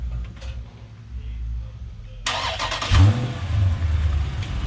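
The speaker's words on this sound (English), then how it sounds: "Start the car." A 2019 Dodge Challenger Widebody Scat Pack fires up with a sudden loud start, then the V8 rumbles and revs briefly at close range, after a quieter stretch of background noise.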